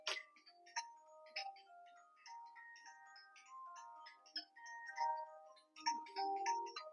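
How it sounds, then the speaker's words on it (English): Phone ringing in a kitchen, a faint melodic electronic ringtone with a run of short chiming notes repeating, quiet and somewhat distant with no talking over it. "That's somebody's phone."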